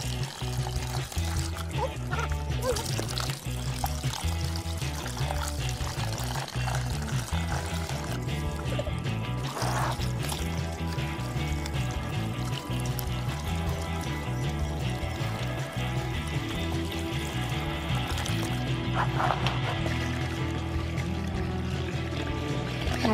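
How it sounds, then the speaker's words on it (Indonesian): Running water pours and splashes steadily as cow skin for kikil is washed clean, a continuous close trickle beneath loud background music. "Dicuci sampai bersih."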